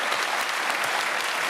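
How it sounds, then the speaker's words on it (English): A studio audience at the TV panel show Have I Got News for You applauds steadily, dense clapping throughout, loud and close with no pauses. "we should give a round of applause"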